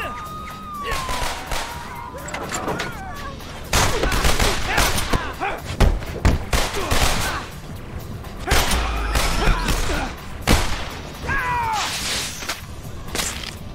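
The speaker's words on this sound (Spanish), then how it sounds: "Vehículo detenido. Ha habido disparos." Gunfire in the Spider-Man 3 PC video game crackles in irregular bursts amid loud crashes, shouts and wailing cries, a busy, chaotic game mix up close.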